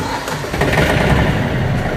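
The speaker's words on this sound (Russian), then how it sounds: "Давайте запустим трактор. Запускаем трактор." The engine of a Yanmar AF210 mini tractor fitted with a rotary tiller starts up and runs, giving a loud, close, continuous mechanical roar throughout.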